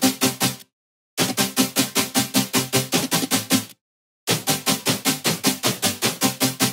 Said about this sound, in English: I added some wobble chords in the second part here